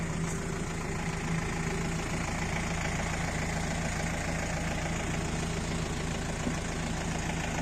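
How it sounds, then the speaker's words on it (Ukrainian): A DTZ 5404 tractor engine idles steadily nearby while warming up, with a low, even diesel rumble and faint knocking, continuous throughout and with no voices. "Трошки прогріли тракторця."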